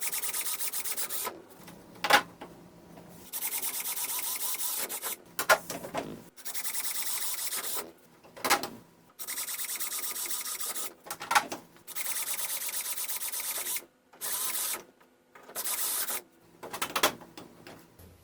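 A drill with a 5/32 inch bit bores into the Duraflex hood of a drift car in repeated short bursts of buzzing, separated by brief silences, fairly close and loud, with no talk.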